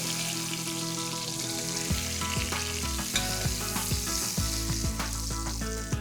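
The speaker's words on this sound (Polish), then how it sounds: "Schab już mi się obsmażył." Pork loin frying in a pan, a steady loud sizzle with occasional stirring and scraping clicks, close up and without any talking.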